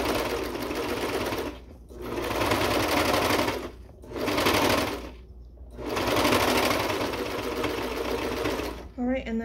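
A sewing machine with a binding attachment stitches the edge of a cami. It runs in several steady, close bursts of rapid needle chatter, separated by brief pauses.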